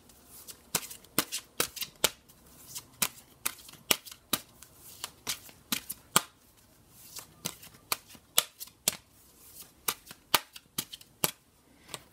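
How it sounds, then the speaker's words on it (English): Oracle cards being shuffled by hand, a rapid run of crisp riffling snaps and flicks in irregular bursts across the whole stretch, close and clear with no talking. "As I was shuffling the cards"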